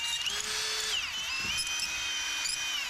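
A power tool, likely a drill-driven wire wheel, scrubbing rust off a badly corroded brake caliper piston on a 1979 Jeep CJ-7, a close, continuous high whine that rises and dips in pitch as the load changes.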